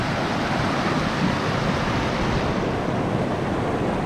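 Sea surf rolls against the shore where someone is fishing with a double-hook rig, heard as a steady, loud wash of waves with wind buffeting the microphone throughout and no talking.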